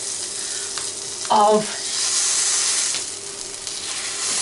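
A sausage meat patty frying in a pan gives a steady, close sizzle and hiss throughout. A short burst of voice breaks in near the middle.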